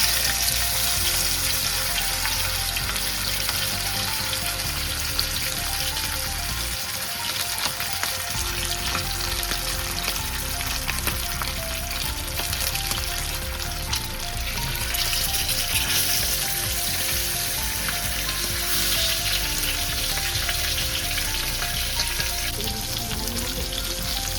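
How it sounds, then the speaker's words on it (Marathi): Stuffed pomfret fish frying in hot oil, a loud, dense crackling sizzle that runs continuously and evenly throughout, no talk. "तेल थोडंसं तापलं की त्याच्यामध्ये आपण पापलेट सोडून द्यायचं।"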